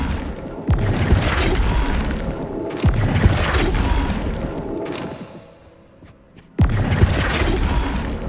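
Heavy booming impacts from the Flipendo spell in Hogwarts Legacy hit in three bursts, each a sharp thud followed by crashing, rumbling debris, with a quieter pause before the last blast.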